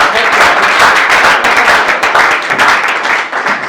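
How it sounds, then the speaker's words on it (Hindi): An audience at a patriotic poetry recital claps loudly and continuously, a dense wash of hand claps that holds steady throughout. "तालियां चलाओ।"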